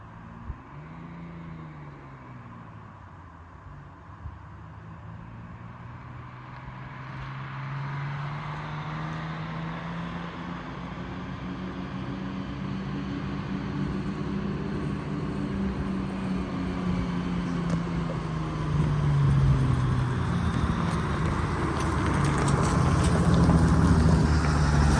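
An old bus engine warming up and running rough, a close, continuous low drone whose pitch wavers, dips and climbs unevenly as it revs, growing gradually louder, with no voices.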